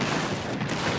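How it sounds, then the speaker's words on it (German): A short artillery strike from the video game Apex Legends: a dense, continuous rumble of distant blasts that fills the whole moment without pause. "Ich habe jetzt auch meinen Artillerieschlag gemacht."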